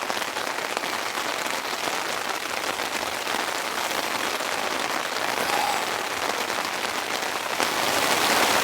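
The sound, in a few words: heavy rain falling on tent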